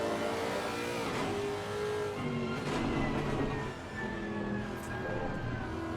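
Race cars in a racing game sweep through corners at Spa, engines droning and shifting pitch steadily and loudly throughout, with overlapping revs from several cars and no talk.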